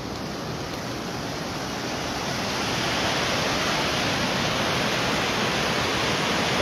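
A flowing river rushes in a broad, unbroken roar of churning water, steady and loud throughout and swelling slightly partway through, with no voices over it.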